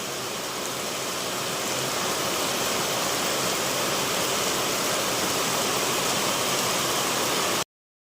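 Heavy village rain and rushing water make a dense, steady hiss and roar at constant loudness that cuts off abruptly, with no voices.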